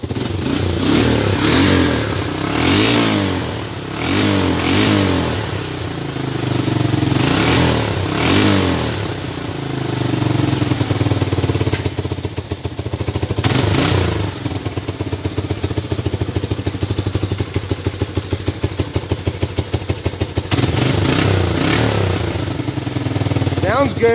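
An engine on a Big Red fitted with a new air filter runs close by, a steady low throbbing idle that swells into revs several times, with people talking over it.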